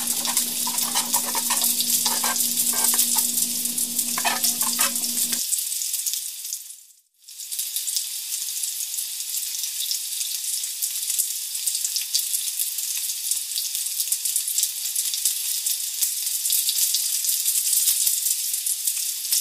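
Ingredients sizzle steadily as they temper in a pan after salt is added, a loud, continuous frying hiss; a duller stirring rattle runs through the first few seconds before the sizzle carries on alone.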